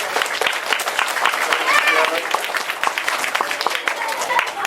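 A school audience applauds to welcome author Rob Wilson: steady, fairly close clapping from a crowd that goes on throughout, with some voices mixed in.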